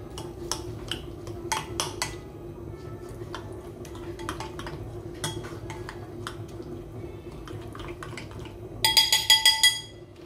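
Spoon or utensil clinking against a bowl while fish marinade is stirred together with turmeric. Near, intermittent clinks and scrapes over a steady low kitchen hum, ending in a quick run of brighter rattling clinks.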